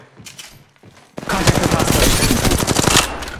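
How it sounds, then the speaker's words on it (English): Rapid automatic gunfire erupts in a video game match, a loud dense burst of shots that follows a brief quieter stretch and keeps going to the end. "I am taking fire."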